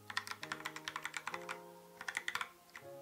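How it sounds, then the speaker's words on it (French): Logitech POP Keys keyboard keys clack in quick, even bursts of typing, loud and near, with a brief pause before a second flurry. "Pour les touches, en fait, elles sont pas mal. Elles font un peu beaucoup de bruit."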